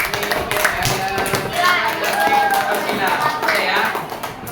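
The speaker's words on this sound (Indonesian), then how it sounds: "Ada aplaus untuk kelompoknya." Applause for a student group in a classroom, a short spell of scattered hand clapping from a small group mixed with voices talking.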